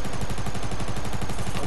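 Rapid automatic gunfire from a mini SMG in the battle royale video game Fortnite, a dense unbroken burst of quick shots lasting under two seconds, loud and close with no talking.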